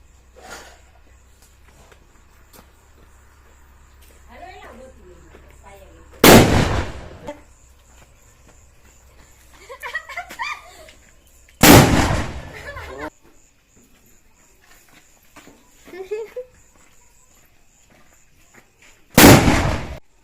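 Three loud firecracker bursts ring out separately, each with a sharp crack and a ringing tail, in a village in Jamnagar, Gujarat. Voices talk between the blasts.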